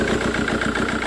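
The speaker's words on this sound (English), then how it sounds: "But it starts and runs. Not very well, but it starts and runs." A Jaguar X-Type 2.2 diesel engine idles roughly in limp mode with a faulty EGR valve and engine warning lights on, a steady close, loud rumble with a faintly uneven pulse and no talking.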